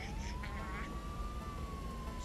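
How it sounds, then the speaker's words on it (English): Police car siren in the Goat Simulator 3 video game: a steady, slowly rising and falling wail runs the whole time over a dense rumble of game noise, with a few brief chirps early on. "Oh, I'll toggle the siren, all right."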